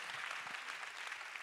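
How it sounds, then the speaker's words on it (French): Faint, distant audience applause at a cultural event in Brazzaville, a steady wash of many hands clapping with no speech over it. "Je veux qu'on applaudisse très fort."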